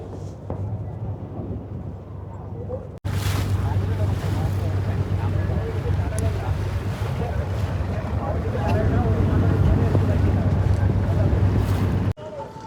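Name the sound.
boat travelling to Nainativu island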